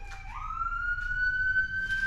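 A police car or ambulance siren passes in front of a house, a rising wail that climbs and then holds a steady high tone, moderately loud over low rumbling traffic.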